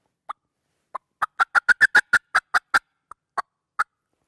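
A handheld turkey call imitates a wild turkey fly-up cackle, a rapid staccato run of sharp, piercing clucks. A few spaced notes speed into a quick burst and then slow again. The sound is close and clean, with no talk.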